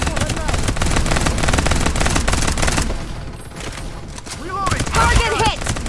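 Rapid automatic gunfire in the battle royale shooter Farlight 84, loud dense bursts rattling continuously before a short lull, then more sharp shots returning near the end.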